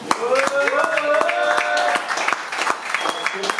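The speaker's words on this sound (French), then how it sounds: "J'aimerais qu'on les applaudisse pour bien les encourager" Audience applause for ten slam poets at a slam night at La Zonmé in Nice, sharp scattered claps running throughout, loud and close, with voices and whistle-like tones layered over the clapping.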